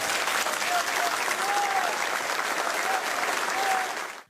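Crowd applause at a stadium farewell for footballer Felipe Machado, dense sustained clapping from many hands with faint tones over it, cutting off at the end.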